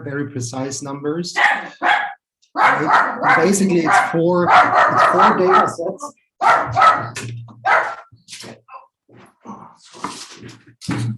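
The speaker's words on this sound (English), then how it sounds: "Now I apologize for the dog." A dog barks repeatedly in the background while a man lectures over it, with short sharp barks mixed into steady speech.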